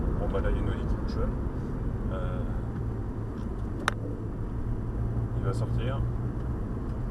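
A Porsche 911 engine accelerating on the Circuit du Laquais, a steady, loud in-car drone with the car's own engine noise under someone talking over it.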